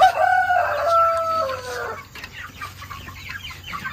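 A crossbred chicken kept for fast growth crows loudly and close for about two seconds, then lower clucking and farmyard bird chatter continue.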